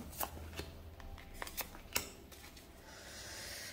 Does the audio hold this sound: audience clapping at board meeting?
no